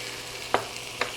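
Potatoes sizzle in a skillet for a ground beef taco dish, with a steady close frying hiss and two brief sharper pops, and no talk.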